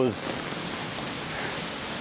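Steady rain falls during an outdoor walk along a road in China, a continuous even hiss, with a brief burst of voice at the very start.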